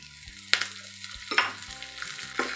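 Mustard seeds, urad dal, hing and curry leaves hitting hot oil in a Marathi tempering for vermicelli idli, giving close, steady frying hiss with sharp crackling bursts as each ingredient drops in, no voices.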